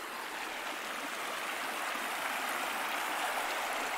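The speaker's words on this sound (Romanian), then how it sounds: "Avem un mic râu, pârâu aici, care pare murdar" A small, murky-looking stream flows beside a campsite, giving a constant close hiss of running water that holds steady and alone with no voices.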